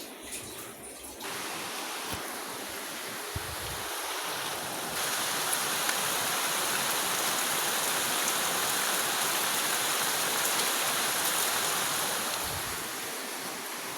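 Rain falling outside a house, a dense continuous hiss that swells after a few seconds and then holds steady at a moderate distance, with no voices.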